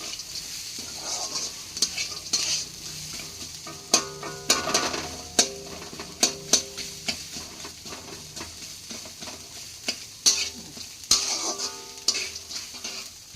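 Whole green chillies fry in hot oil while a utensil stirs and scrapes the pan, giving a steady sizzle broken by sharp, irregular metallic clinks close by.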